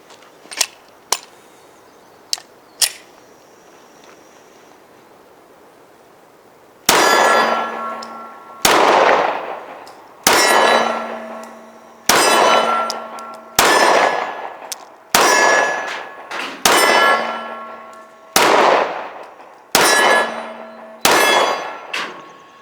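A lighter carry handgun fired at steel targets at a range: a few sharp shots, a pause, then a steady string of loud gunshots, each followed by a ringing metallic clang from the struck steel.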